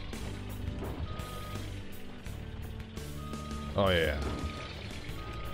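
Front end loader reversing beeps in the Gold Rush video game, a steady electronic beeping over a low truck engine rumble, with someone talking over it and a rising whine near the end.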